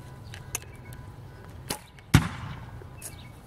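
An archery arrow is shot outdoors and strikes a building, giving a sharp near thwack after a couple of softer earlier taps, set against quiet outdoor ambience.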